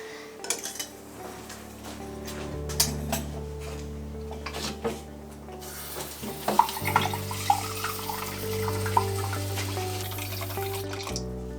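Tap water running into a sink while preparing water at about 20 degrees for black-and-white film developing, with clinks of dishes and utensils and occasional knocks over a steady low flow.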